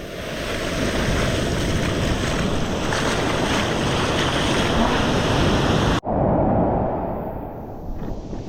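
Big sea waves surge against a small thermocol raft used for fishing, making a loud continuous roar of surf and wind buffeting that briefly cuts out and then returns.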